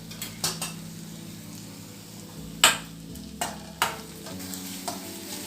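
Masala powder stirred in a pan for Kerala-style kadala roast, sharp spoon-on-metal scrapes and clinks at irregular intervals over a low sizzle.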